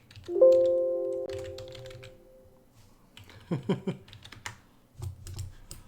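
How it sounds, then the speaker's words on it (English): Typing on a computer keyboard: soft, quick clusters of key clicks and taps, fairly faint and close, following a brief ringing tone at the start, with low voices occasionally in the background. "And I just typed it with an H."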